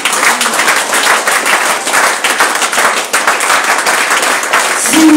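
A congregation applauding during a French-language church sermon, dense sustained clapping at close range with a brief vocal cry near the end.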